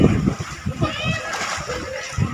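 A child jumps and splashes into swimming pool water, with repeated choppy splashes and sloshing close by while children and adults talk and call out over the water.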